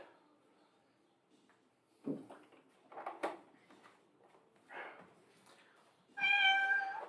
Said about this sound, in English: Spoiled rotten cats.